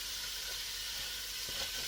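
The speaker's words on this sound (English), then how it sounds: "we're just going to cook this until it's all nice and brown and chopped up" Italian sausage browns in a pot with a steady, close sizzle and hiss, plus a few soft stirring knocks.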